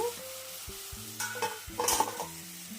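Slices of bitter gourd deep frying in hot oil, a steady sizzle with scraping stirs and occasional clinks of a utensil against the pan, close up and without talk.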